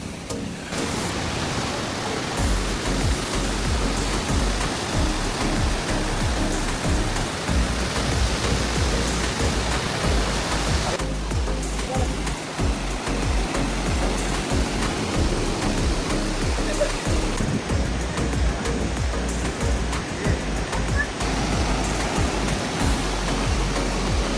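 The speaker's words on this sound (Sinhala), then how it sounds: "ඔයාලට ඉතින් කොහොම හරි දියැල්ල පෙන්න ගන්න පුළුවන් වුණා වතුර වැඩි වුණාට පස්සේ" A waterfall running high after the water level rose, heard as a loud, steady broadband rush of falling water that continues unbroken throughout, with no voices.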